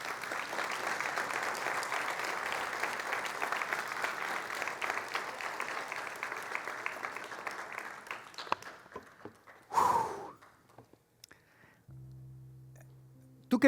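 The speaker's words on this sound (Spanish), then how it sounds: "Dale un aplauso a Jesús bien fuerte." A church congregation claps loudly together in a sustained wash of applause, which thins out and fades after several seconds into scattered claps and quiet room noise.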